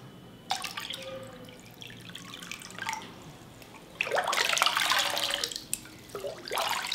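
An object is dropped into water in a homemade DIY fountain, turning the water blue, with a splash, followed by dripping and sloshing, then more splashing and pouring.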